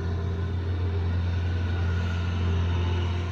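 A small street-cleaning loader drives back and forth outside, making a steady, continuous low engine rumble with a strong, even hum that holds constant with no speech.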